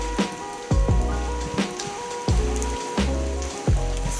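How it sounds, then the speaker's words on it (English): Heavy rain pouring onto a surface, a loud, continuous dense patter punctuated by repeated heavier thudding impacts every half second or so. "it started to rain, and it is raining like anything for the past few days"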